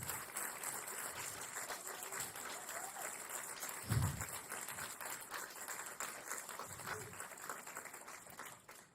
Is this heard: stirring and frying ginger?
no